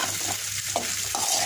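Bitter gourd with a bay leaf, tossed with a spoonful of mustard oil in a pan, gives a steady low sizzle crossed by two distinct scraping stirs, close and moderately loud.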